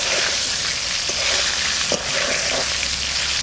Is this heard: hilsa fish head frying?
yes